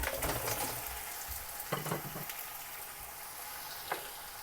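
Mutton chops hit a pan of browned onions, giving a moderate, steady sizzle and crackle of frying with a few brief clatters of handling, close by and without voices.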